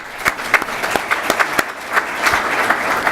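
Audience at an event with a moderated conversation giving a collective round of applause, loud sustained clapping with distinct sharp individual claps standing out near the listener.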